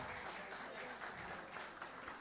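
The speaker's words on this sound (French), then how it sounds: "On les applaudit" An audience at the Miss Haiti 2022 grand final applauding the contestants, a dense, even wash of clapping held for a couple of seconds at moderate distance.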